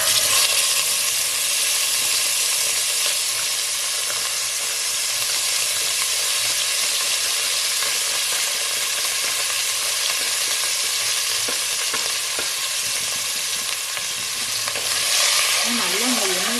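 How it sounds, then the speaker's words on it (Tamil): Whole spices, cinnamon bark and cloves, plus a packet of masala powder, fry in hot oil while being stirred, giving a steady, loud, continuous sizzle with scraping stir strokes throughout and no talking. "நம்ம அப்படியே அந்த பட்டை கிராம்பு எல்லாத்தையும் சேர்த்துக்கலாம்."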